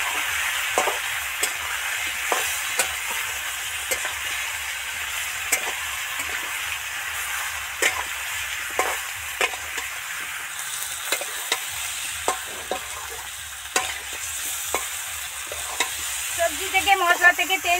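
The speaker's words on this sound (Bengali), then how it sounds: "এবার ভালো করে নেড়ে চেড়ে মিশিয়ে দেবো।" Taro, potato and eggplant with cumin, coriander and chili powder sizzle in a pan for a mrigal fish curry, while a spatula scrapes and taps in a steady rhythm and a clattering burst comes near the end.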